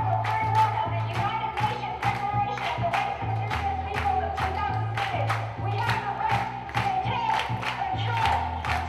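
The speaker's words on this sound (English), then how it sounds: "Let's keep that clap going" An audience at a hip hop performance keeps a steady rhythmic clap going over a thumping beat, with crowd noise underneath and loud, regular hits throughout.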